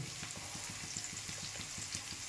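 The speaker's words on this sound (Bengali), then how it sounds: "প্রথমে তেল গরম করে তাতে পেঁয়াজ লাল করতে হবে" Onions frying in hot oil for a pea ghugni, a steady close sizzle and crackle with a faint rhythmic scraping pulse underneath, continuous throughout with no talk.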